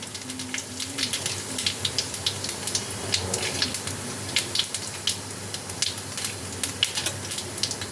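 Whole dried red chillies, bay leaves and cumin seeds sizzle in hot oil as the tempering for a Gobindobhog rice bhuna khichuri, a steady close crackle with dense sharp pops throughout.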